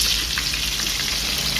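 Dried red chillies, cumin and fennel sautéing in oil in a pan for mutton gravy, a close, steady, bright crackling sizzle with a few faint pops, heard alone without voices.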